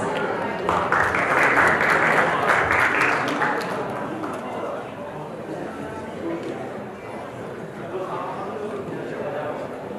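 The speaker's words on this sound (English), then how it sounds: "Let's give Chris a big round of applause" Audience applause at a blockchain conference in Seoul, a broad burst of clapping for the next speaker that swells loudly over the first few seconds, then fades into softer scattered clapping and hall noise.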